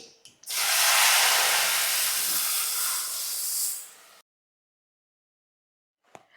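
A loud, sudden sizzling hiss bursts up as hot tempering is poured into dal, raging steadily for several seconds, then cuts off abruptly, followed by silence and a brief clink.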